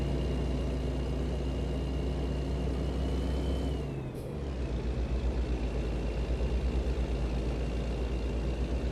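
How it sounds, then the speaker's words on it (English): Truck engine in a truck-driving video game, a steady low droning hum with a brief air-brake-like hiss midway, then the engine resumes with a faint pulsing rumble, no talk. "The volume of the truck is not too loud."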